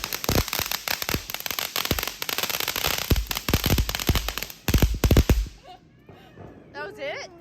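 Dense crackling bangs and pops of fireworks go off steadily for about five seconds, with voices mixed in, then fade to quieter chatter.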